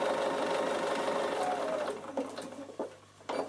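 A Bernina sewing machine stitches leather with normal sewing thread, a steady close whirring stitch run that slows and stops near the end with a few soft clicks.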